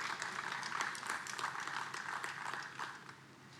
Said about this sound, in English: Please give a huge round of applause for all the panelists who are present today.